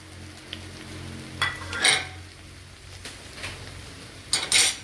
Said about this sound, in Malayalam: ഇനി ഇതിലേക്ക് ഈ ക്യാപ്സിക്കം കൂടി ചേർത്ത് കൊടുക്കുക.